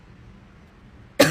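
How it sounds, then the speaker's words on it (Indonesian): A single short cough bursts out loud and close at the very end, after a stretch of quiet room tone. "Sampai batuk gue."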